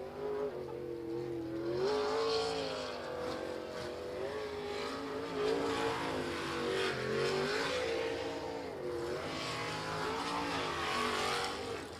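Race car at ASBR Stihl pro racing qualifying in Lewiston, Idaho, driven hard with a loud, steady engine roar that rises and falls through continuous revving and acceleration across the whole run.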